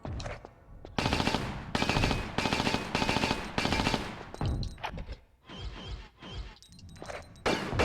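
Loud bursts of rapid gunfire from the video game Tomb Raider Chronicles, with several long automatic volleys separated by short pauses and followed by scattered single shots and thuds.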